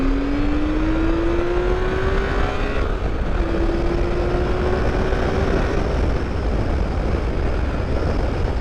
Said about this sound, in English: That thing, that's what it's meant to do, is to just put all those 6 cylinders to work and just scream.